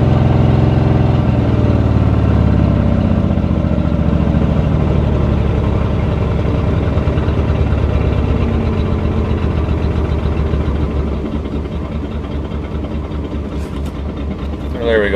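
A Chevrolet S10 truck engine idles after warming up, a steady, close, low rumbling chug that eases slightly toward the end, with a person speaking over it.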